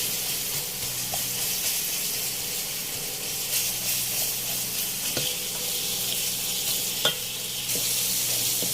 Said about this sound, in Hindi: हम इसको थोड़ा अच्छी तरह भून लेंगे कि हमारे बिल्कुल मसाला तैयार हो जाए और इसका ऑयल अलग हो जाए।